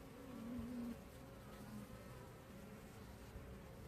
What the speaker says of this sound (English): Lots of bees milling around